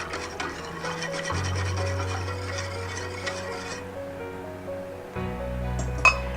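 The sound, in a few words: whisking milk into a sauce in a pot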